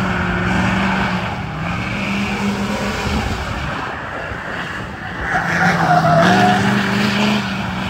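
A new Ford F250 pickup truck does a tire burnout, its engine roaring steadily with rising tire squeal and skidding throughout, loud and close, swelling louder near the end.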